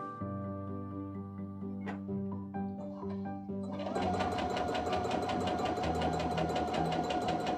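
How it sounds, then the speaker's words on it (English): A sewing machine stitches a pintuck seam on fabric. A few quiet tones and clicks come first, then a loud, fast, even rattle of stitching runs steadily to the end. "You're gonna line your fabric up underneath the center ridge and begin stitching."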